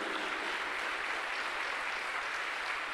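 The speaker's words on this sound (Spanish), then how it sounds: "Aplaudimos para Cristo Jesús" A church congregation applauds for Christ during a Wednesday service, a dense, steady wash of many hands clapping at once, loud and continuous with no pauses.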